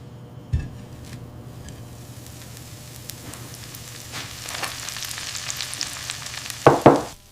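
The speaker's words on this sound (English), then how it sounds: "The sizzle intensifies as the edges curl and the steam rises" Oscar Mayer bacon slices sizzle in a hot skillet, a steady close crackle of frying fat with scattered pops that swells louder toward the end, with a couple of sharper bursts near the finish.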